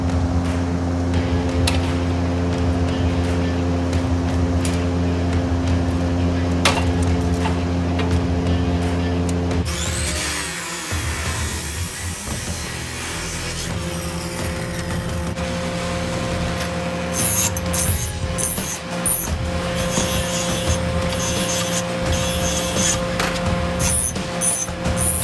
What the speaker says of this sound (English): Now we got to cut it off to the correct length to line up with the bolt down here.